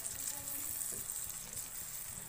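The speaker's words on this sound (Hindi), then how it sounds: "इनको फ्राई कर लेंगे मसाले को।" Spice paste (masala) with ground red chilli and turmeric frying in a pan for a chicken dish, a faint, steady sizzle with light stirring scrapes.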